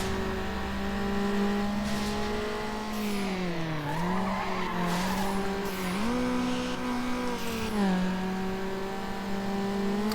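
A race car in Need for Speed Underground holds a loud, steady engine drone close up for about ten seconds, its pitch dipping and climbing through gear shifts, with tire squeal and skidding mixed in.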